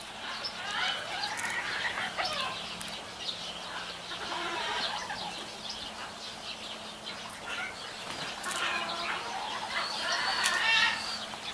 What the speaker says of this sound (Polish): O, lecą kaczuszki, lecą.